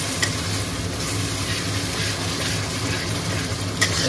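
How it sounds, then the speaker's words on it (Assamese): Hot water poured into a pan of sizzling tomato and spice masala gives a steady, close hiss and gush of bubbling liquid that holds for about four seconds, with a couple of brief clatters. "এতিয়া আমি এইফালে গৰম পানী আছে অকণমান আমি ইয়াত নাম মাত্ৰমান পানী দি দিম"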